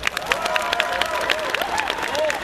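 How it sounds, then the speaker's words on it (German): An audience at a brewery event breaks into dense, sustained applause, many hands clapping steadily and loudly throughout, with a faint background murmur. "Das ist mal ein großer Applaus"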